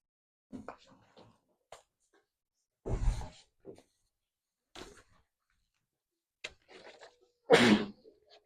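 A sneeze bursts out in a classroom during a lesson, sharp and close, set among scattered quiet rustles and short breathy noises.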